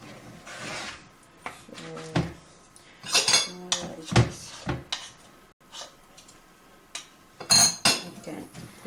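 Kalu dodol mixture is stirred in a microwave bowl, with a spoon scraping and clinking against the dish in irregular bursts, close and fairly loud, separated by brief pauses.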